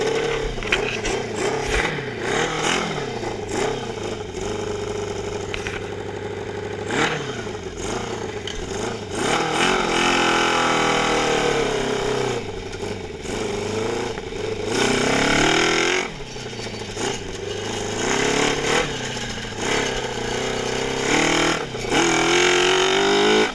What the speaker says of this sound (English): So now it's time to take it for a little test drive.